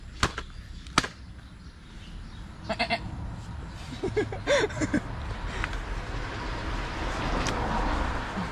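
Goats bleat in a backyard garden, several short nasal calls spread over a few seconds against steady outdoor noise, with scattered clicks and knocks and some faint background voices.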